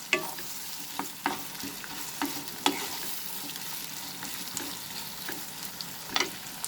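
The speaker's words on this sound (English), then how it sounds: "We will saute this onion till it becomes slightly transparent." Onion sautéing in mustard oil with dried red chilies for a bottle gourd bhaji, a steady close sizzle broken by several sharp scrapes of a stirring spoon against the pan.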